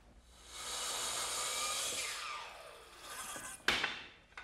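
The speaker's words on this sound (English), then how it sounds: "a circular saw with a board clamp down is a perfect way to square up this table" A circular saw cutting through a clamped board to square the end of a wooden trestle table, a loud steady whining rasp that rises then winds down, ending with a sharp knock and rattle.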